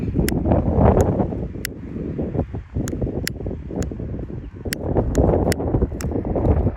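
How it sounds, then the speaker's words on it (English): Gusty outdoor wind buffeting the microphone at a rocket-powered glider launch site, a continuous loud rumble with a few sharp ticking clicks over it. "Wind's picking up pretty bad"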